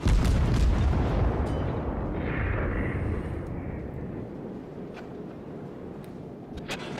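Naval guns firing at a destroyer in World of Warships, a loud booming salvo at the start that rolls off into a long rumbling decay.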